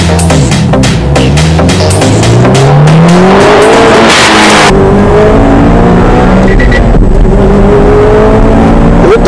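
A 320 horsepower limited-edition S203 car accelerates hard at full throttle on winding roads, the engine revving loud and close through rising gear sweeps with tire noise, then settling into a steady high drone.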